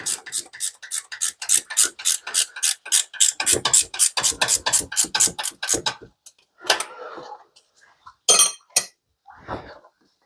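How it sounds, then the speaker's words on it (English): 19mm ratchet spanner turning a bolt on the water housing elbow of a Land Rover Defender TD5, giving a rapid, close run of crisp metallic clicks that slows into a few scattered clicks and scrapes. "19mm ratchet spanner. This should make quicker work of it than just spannering in it."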